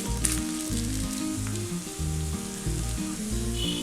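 Thin potato and wheat-flour appam batter cooking on a pan over medium heat, giving a steady loud sizzle that runs throughout, with a pulsing low hum underneath.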